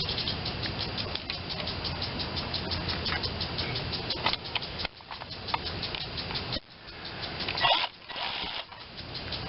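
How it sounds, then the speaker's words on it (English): A Honda GCV160 overhead-cam engine on a Black Max pressure washer runs with a steady, buzzing drone, then briefly stumbles and cuts out twice as fuel runs short. "it's the GCV160 overhead cam Honda."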